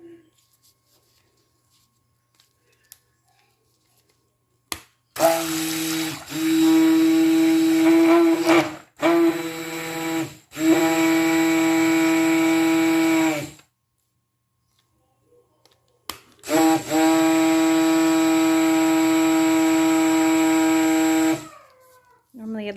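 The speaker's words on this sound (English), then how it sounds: "move it a little closer to me to reach my stick blender" A stick blender mixing dish soap whirs loudly in several bursts, a steady motorized hum that stops and restarts, with short quiet gaps between runs.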